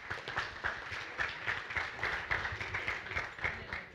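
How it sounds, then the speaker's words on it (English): An audience at the Spark.me 2014 conference applauds a speaker with a steady, moderately faint patter of many hands clapping at an even pulse for several seconds. "A big round of applause for him."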